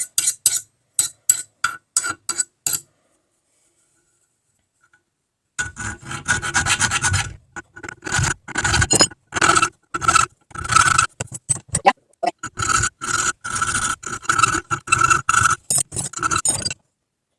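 A file rasps along the blade of a knife being made from a pipe wrench, cutting bevels in quick, rhythmic back-and-forth strokes, close and crisp, with a pause of a few seconds before the filing resumes in faster bursts.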